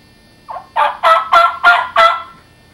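A hen turkey gives an assembly call, a series of five loud, raspy yelps in quick succession, evenly spaced and close, then falls silent.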